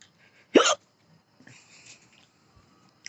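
A single sharp hiccup, followed by faint breathing and another catch starting at the very end.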